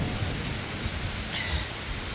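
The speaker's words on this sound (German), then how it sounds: "Es ist ein richtiger Starkregen hier." Heavy downpour during a thunderstorm, heard from shelter under a bridge: dense, loud, continuous rain hiss with low rumbling underneath, steady throughout and with no voices.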